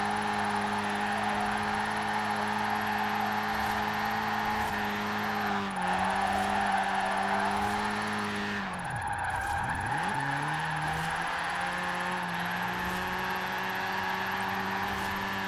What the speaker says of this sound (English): Very budget drifting on this little Fiesta.